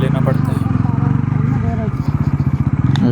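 A Bajaj Pulsar NS 400Z motorcycle rides along an unpaved dirt road, its engine chugging in a low, steady pulsing throb that grows choppier toward the end, while people talk loudly over it.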